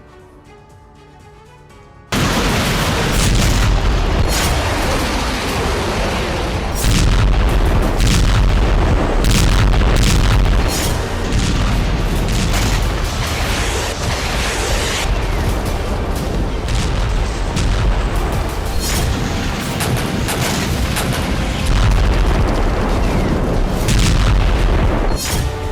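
Sustained Russian bombardment in Ukraine: loud, dense booms and blasts of artillery and explosions roll almost continuously after a quiet opening, with overlapping bursts and no speech.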